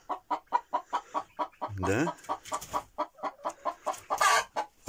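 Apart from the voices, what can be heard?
chickens clucking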